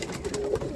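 Cumulet pigeons coo softly inside a loft, a single brief low murmur against faint background rustle.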